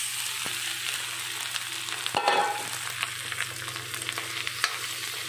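Cumin and spices with kasuri methi frying in a kadai, a steady close sizzle with occasional scraping stirs and a brief louder stir burst midway, no voices.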